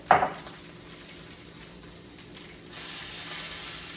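Sausages fry in a pan: a brief clatter at the start, then a steady soft sizzle that turns louder and brighter near the end, with no voices.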